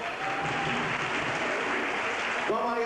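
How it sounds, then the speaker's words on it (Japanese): Audience applause at a 1988 children's variety stage show, a dense continuous clapping from a large crowd held at an even level, with a musical tone entering near the end. "拍手"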